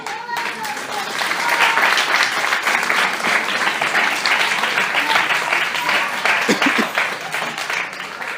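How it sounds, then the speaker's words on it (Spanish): Congregation applauding during a church sermon, a dense, steady wash of clapping that holds loud across the whole stretch with faint voices mixed in. "Dale un aplauso al Rey."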